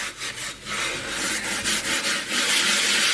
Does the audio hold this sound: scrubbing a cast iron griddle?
yes